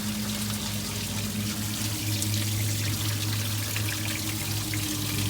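Clear fluid drains steadily through a hose from the engine of a 1968 Mustang, a constant close trickling, pouring rush over a low hum.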